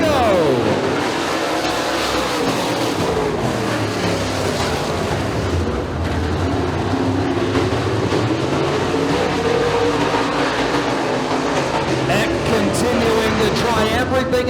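Race cars in a heat at Bradford Speedway roar continuously around the track, their engine drone rising and falling as they pass, loud and sustained beneath an announcer's commentary.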